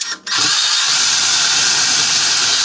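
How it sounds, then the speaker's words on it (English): A power drill whirs loudly and steadily after a brief start, a continuous high-pitched mechanical whine with no talking. "switch your drill."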